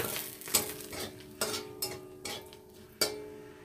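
Dried red chili and bay leaves dropped into hot oil, a soft frying hiss punctuated by four sharp utensil clinks and scrapes against the pan, close and without talk.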